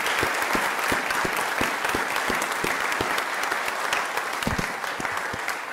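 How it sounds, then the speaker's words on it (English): Audience at a board meeting applauds a student named Jose, steady crowd clapping filling the room at even loudness throughout, with individual sharp claps standing out. "Can we please give Jose a round of applause?"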